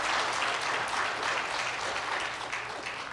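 An audience applauds a cheerleader at a live talk, a dense steady wash of clapping that fills the room without pause.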